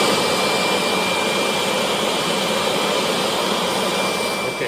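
A Kirby vacuum cleaner runs with its fan shaft spinning, giving a loud, steady, high-pitched whirring roar with a faint whine that holds constant throughout.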